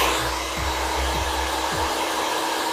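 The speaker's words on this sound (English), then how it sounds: "Now then you take your trusty dryer and dry that in." A hair dryer blows steadily on hair during styling, a loud continuous close-up whoosh filling the whole moment with no voices.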